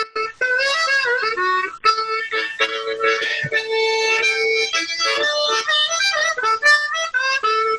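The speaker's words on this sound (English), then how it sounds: "and your D harmonica sounds like this." A D harmonica plays a continuous melodic run of bright reedy notes with chords and bends, close and fairly loud, with no talking over it.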